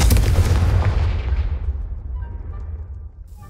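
Fiery Confringo spell explosions in Hogwarts Legacy: a loud, booming blast at the start that rolls off into a decaying rumble over several seconds, with a faint magical chime near the end.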